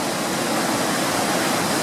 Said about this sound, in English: lip right there where the waterfalls drops.